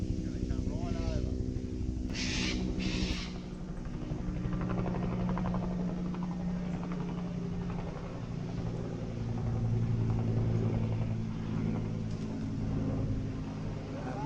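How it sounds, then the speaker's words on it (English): A reconnaissance helicopter flies over a bushfire area, its steady low rotor and engine rumble droning continuously and swelling slightly as it passes, with faint voices in the background. "that will be the recce chopper"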